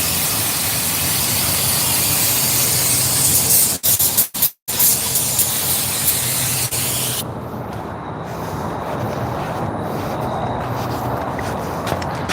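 Grease sprayed from a can during car brake work, a loud close continuous hiss that breaks off briefly with a few short bursts, then resumes as a softer, steadier spray.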